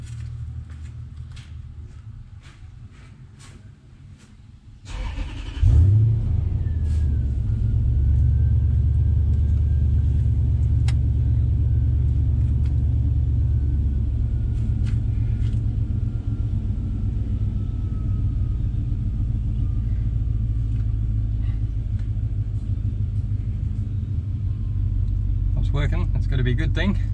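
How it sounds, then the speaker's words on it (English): An old car's engine idles close by, starting up about five seconds in and then holding a steady, low, continuous rumble, with faint occasional clicks over it. "Old car at idle"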